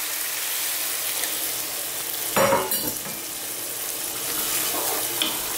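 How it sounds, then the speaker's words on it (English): Cold water poured into a pan of sizzling Indian-style vegan vegetable mix with chopped tomatoes, giving a sudden loud hiss and splash around the middle over a steady background sizzle, then fading back to quieter frying. "Now I'm going to add some cold water."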